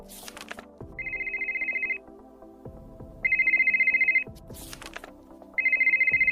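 A phone ringtone plays in three bursts of rapid trilling electronic beeps, separated by pauses, with scattered clicks and light clatter in between.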